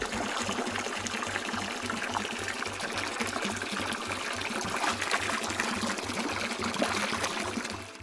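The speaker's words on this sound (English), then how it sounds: "Let's rinse your hair one more time." Water pours steadily in a bath to rinse a child's hair, a continuous close trickling and splashing stream with a faint rhythmic low thumping beneath it.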